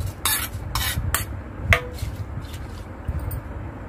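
Metal spoon clinking against a pot as tempering is added and stirred into tamarind rasam, a handful of sharp scraping clinks at irregular intervals over a quiet kitchen background.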